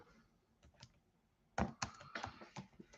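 Keys clack on a computer keyboard as a website address is typed, sparse soft taps at first, then a quicker, louder burst of keystrokes close by.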